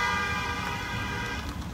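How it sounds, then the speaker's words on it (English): A car horn sounds on a street, a sustained steady tonal blare over road traffic noise. "Somebody's honking at somebody."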